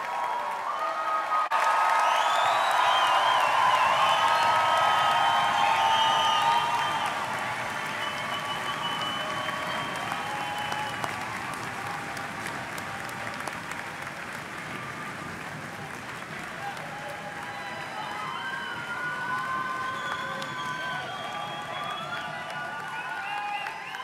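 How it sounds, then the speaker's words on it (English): A large audience at a university engineering commencement ceremony breaks into sustained applause, loud and dense at first, then easing to steady clapping with scattered cheers that lasts for the full stretch. "I was going to invite you all to join me in a thunderous round of applause, but you beat me to it"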